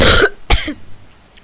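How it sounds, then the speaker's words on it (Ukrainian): Two sharp, close coughs from a person, the first longer and raspy, the second a quick burst, followed by a faint breathy tail in a quiet room. "як ви почули, я кашлю до нормального"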